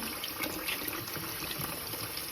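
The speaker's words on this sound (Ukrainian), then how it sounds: "Тож я залію холодною водою." Cold water poured over cooked broccoli in a home kitchen, a close continuous splashing stream with light bubbling, heard alone without voices.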